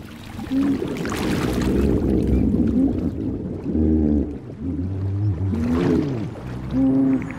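Hippopotamuses communicating underwater in a river in Zambia, a series of resonant low grunts and higher wavering tonal calls, loud and close, repeated in several phrases.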